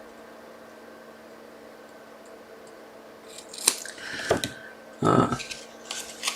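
Scissors snip a small piece of paper for a handmade card, several short crisp cuts in quick succession after a quiet stretch, close by, with a brief spoken word.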